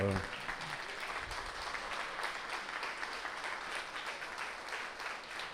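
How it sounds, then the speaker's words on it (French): Applause from the audience at the closing session of an event in Abidjan, honouring the teams who organised it: steady, moderately faint clapping that fills the room throughout, with a brief voice at the very start. "je vous demande de les applaudir"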